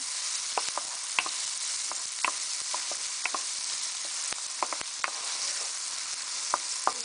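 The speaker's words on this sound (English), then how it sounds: "I'll fry that until golden brown." Chicken pieces for a potato curry fry in a pan, giving a steady, dense sizzle with scattered sharp pops and crackles throughout, close and moderately loud with no talking.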